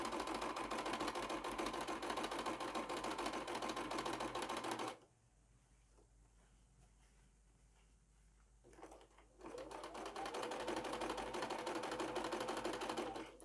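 A sewing machine stitches a zigzag on patchwork fabric for a sling bag, running in a fast, steady chatter for about five seconds, pausing, then starting up again at speed.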